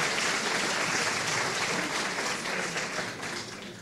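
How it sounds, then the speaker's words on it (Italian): A hall audience at a debate between mayoral candidates in Bussolengo applauds loudly, a thick, continuous roar of many clapping hands that eases off slightly toward the end. "Grazie per l'applauso, ciao Alessandro."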